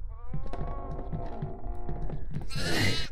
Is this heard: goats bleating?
yes